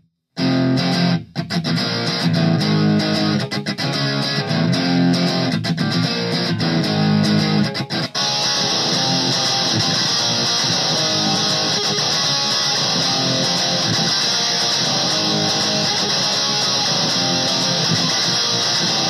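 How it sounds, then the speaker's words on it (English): An electric guitar plays dense clean chords for several seconds, then switches to a loud, continuous distorted tone that holds steadily to the end, with no talking over it. "But I just think it's cool how it shifts from the clean chords to distortion, right?"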